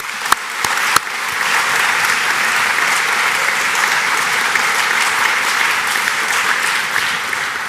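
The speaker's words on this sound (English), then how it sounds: "I'll give him a round of applause" Graduation ceremony audience gives sustained applause for a former staff member receiving an award, a dense even wash of clapping after a few sharp early claps, filling the whole hall with no voices over it.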